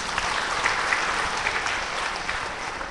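A dense, even wash of applause from a religious gathering's congregation, many hands clapping steadily and fairly loud throughout with no voices standing out.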